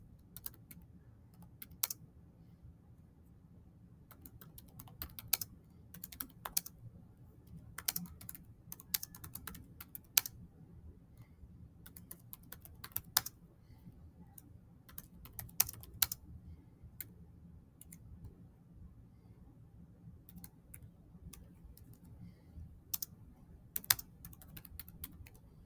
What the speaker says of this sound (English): I'm going to go ahead and type in the title.